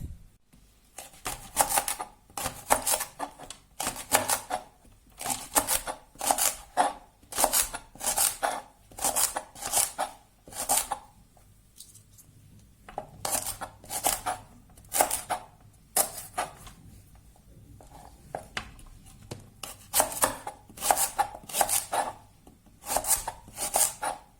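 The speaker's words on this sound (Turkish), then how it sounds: "Şimdi pırasaları doğramaya geçelim sizinle." Repeated knife strokes chopping leeks on a board, quick rhythmic bursts with brief pauses between runs, close and clear, no talking.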